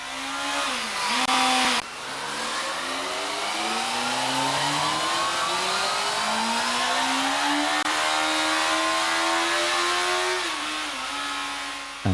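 A Yamaha R1 superbike engine revs hard on a dyno, a loud sustained wail that climbs steadily in pitch over about ten seconds after a brief idle blip, then drops off abruptly at the end.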